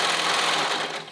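A sewing machine stitches around a curved pocket on a romper, a fast continuous whirring rattle, close and steady, tapering slightly at the end.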